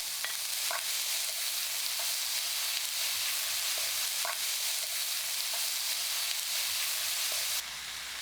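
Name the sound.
stir-frying bacon, green onion and paprika in a pan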